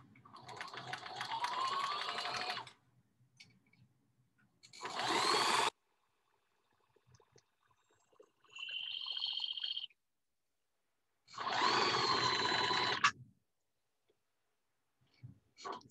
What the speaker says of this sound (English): Now I'm stitching on my marking that I made